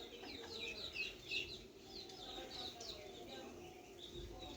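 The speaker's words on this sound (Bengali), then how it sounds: "এই যে আমার এগুলো দেশি মুরগি, এগুলোকে সাইডেই পালি।" Local desi chickens kept at a small farm in Rajshahi cluck and chirp faintly in short, scattered calls over a quiet, steady background.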